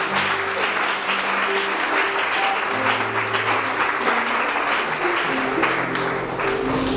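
An audience at a Bible quiz contest applauds loudly and steadily for several seconds, dense clapping from a crowd with a few voices mixed in underneath.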